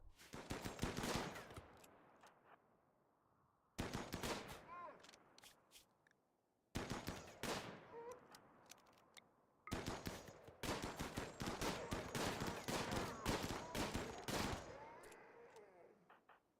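Gunfire in the RimWorld colony game, dense rapid bursts of shots in four loud volleys separated by brief silences, with faint speech underneath.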